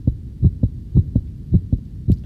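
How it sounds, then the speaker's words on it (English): A heartbeat sound effect added during video editing thumps in steady paired beats, low and prominent, about eight beats over a couple of seconds with nothing else beneath. "So first sound that I add is this heartbeat."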